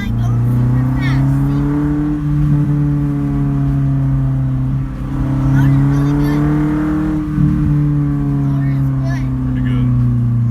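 A 1989 Nissan 240SX with a new exhaust drones steadily at speed, its deep engine tone swelling and easing slightly as it pulls along, with a voice now and then over the exhaust.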